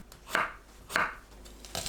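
A few knife strokes on a cutting board, spaced about half a second apart, each a crisp slicing chop at close range, cutting a cucumber diagonally into 3–4 mm slices.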